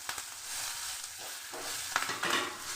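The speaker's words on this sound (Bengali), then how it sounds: "একটু ভেজে নিচ্ছি।" Whole cumin with dried and green chillies frying in oil in a pan, heard close as a steady sizzle with a few scraping stirs and rising crackle toward the end.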